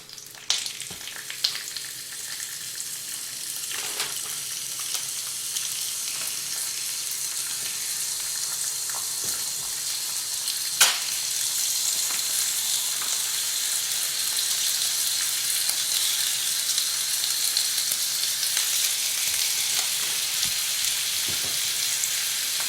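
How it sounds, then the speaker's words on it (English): Bacon strips frying in a Masterpan frying pan, a dense, steady crackling sizzle that grows fuller and louder as it goes, with a few sharp pops and spatters, heard up close. "now it's time to add the bacon. Take notes, epic mealtime, bacon strips."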